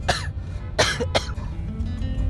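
An elderly father coughs in a home drama scene: three sharp, close coughs in quick succession, the last ones bunched together, followed by quiet room tone.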